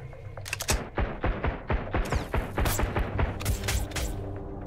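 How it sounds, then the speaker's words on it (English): Grenade blasts and booms in the video game Sunkenland during a large island battle. Loud, close detonations and sharp shots pound in quick, irregular succession throughout. "I was just gonna throw a couple of grenades over there"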